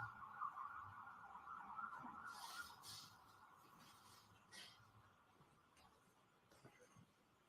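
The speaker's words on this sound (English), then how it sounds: "wait until the sirens pass" Emergency vehicle sirens pass outside a courtroom during a murder trial, heard faint and distant through the walls as a wavering wail that fades over several seconds beneath low room noise.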